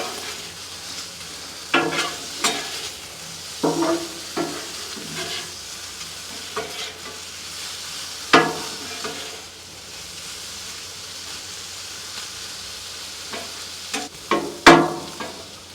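Small sausages sizzling on a Blackstone griddle outdoors, with a constant low fry and intermittent sharp scrapes and clanks of a spatula turning them, no talk.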